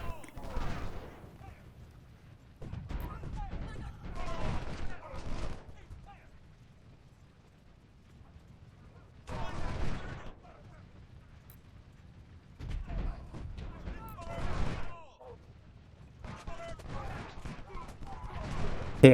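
Scattered musket and artillery gunfire from a Civil War battle in the strategy game Ultimate General: Civil War, coming in several separate bursts of shots and booms with quieter lulls between them.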